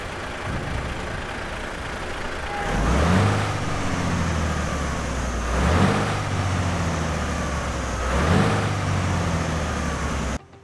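A Volvo FH6 truck engine in Euro Truck Simulator 2, with an improved sound mod, idles with a deep rumble and revs up three times in a steady rhythm, each surge rising and falling back before the sound cuts off.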